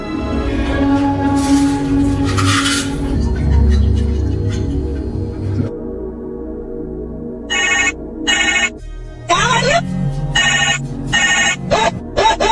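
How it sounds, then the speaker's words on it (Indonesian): A telephone rings in a film scene, bursts of bright electronic ringing in repeated short pulses following a stretch of music and background sound, loud and close. "terbangun setelah mendengar suara dering telepon dari Susan"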